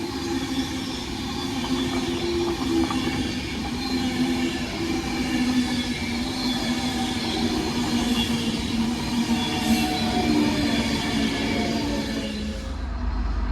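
A Class 319 electric multiple unit runs past on a diverted Avanti West Coast service toward London Euston, a continuous close rumble with steady rail noise and wheel clatter that fades sharply at the end.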